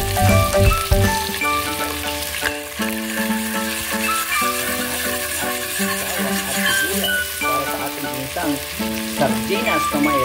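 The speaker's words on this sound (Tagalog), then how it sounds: "Ayan yung bawang. Gisa na natin." Garlic sautéing in a hot pot for a cabbage-and-sardine dish, a loud continuous sizzle and crackle with stirring scrapes throughout, close up and without talk.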